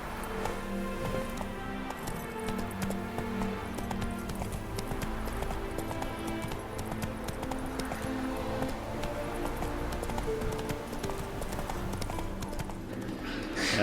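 Horse Roach from The Witcher 3 gallops in steady clip-clop hoofbeats, continuous and fairly loud over a dense game music and ambience bed, with faint rustling around.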